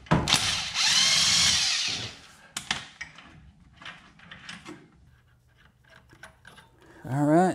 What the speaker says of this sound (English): Now I wanna remove this bolt here out of the mount.